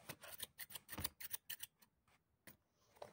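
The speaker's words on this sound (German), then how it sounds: "Dann nimmt man die Schere und schneidet das Innere ab." Scissors snip through paper in a quick run of crisp cuts while the inside of a handmade paper pop-it craft is trimmed out, then a pause and a couple of final snips, close up and clear.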